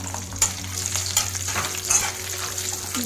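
Cashews frying in a shallow layer of hot oil in a pan for samosa filling, giving a steady close sizzle with occasional sharp crackles and a faint stir, no talking.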